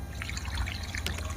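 Water trickles and splashes softly while bougainvillea plants are watered, a faint, continuous patter with a few brighter drips near the end, close by and quiet.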